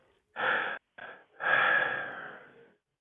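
Three distinct breaths from one person: a quick sharp inhale, a brief short puff, then a long drawn-out exhale that fades slowly, heard close and alone against silence.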